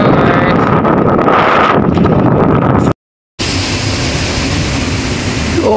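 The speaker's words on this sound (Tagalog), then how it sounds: "Medyo lumalakas ng hangin." Strong wind buffets the microphone in a steady, loud roar, broken by a brief silent gap, then continuing with rushing noise.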